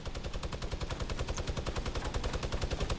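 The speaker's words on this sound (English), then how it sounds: "my friend here is just shooting the supply drop down real quick" Rapid automatic gunfire in Fortnite as a player shoots down a supply drop, a dense, loud, continuous burst of shots with no pauses for the full stretch.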